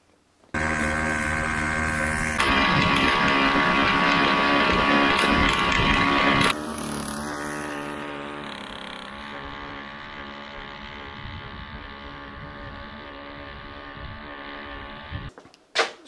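A two-stroke diesel moped engine runs on kerosene with 4% two-stroke oil and cetane booster. It starts up and holds a loud, rough, droning idle, the note shifts a few seconds in, it settles to a steadier hum, and it stops near the end.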